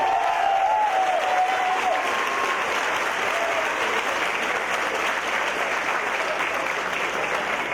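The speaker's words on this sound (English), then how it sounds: "Let's give them all a nice round of applause." Audience applause at the 2019 Formula SAE Lincoln awards ceremony, a dense, steady wash of clapping from a large crowd that holds evenly for the whole stretch, with a few faint voices mixed in.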